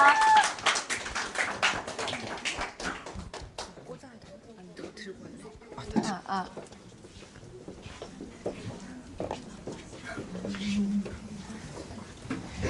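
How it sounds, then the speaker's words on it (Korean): An audience at a school learning showcase claps for seventh-grade student presenters, a dense burst of clapping at first that soon fades under talking voices. "마찬가지로 큰 박수 부탁드립니다."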